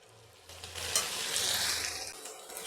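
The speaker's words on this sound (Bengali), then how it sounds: "ঘিটা আমি নাড়াচাড়া করে তরকারির সঙ্গে মিশিয়ে দিচ্ছি" Ghee is stirred into a cauliflower curry frying in a pan, giving a quiet sizzle that swells as the spoon works through it for a couple of seconds, without any talk.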